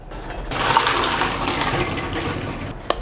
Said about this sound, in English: So I'm going to turn off the heat and drain the water.